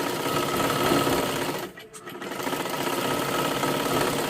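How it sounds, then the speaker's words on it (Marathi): A sewing machine runs steadily, stitching a salwar, with a brief dip near the middle before the whirring resumes; no one speaks. "आता इथून आपल्याला हे शिलाई करायला सुरुवात करायचं आहे"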